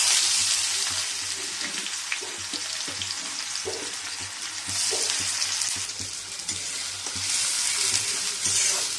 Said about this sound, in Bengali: পেঁয়াজগুলোকে একটু ব্রাউন টাইপের মতন করে ভেজে নেব।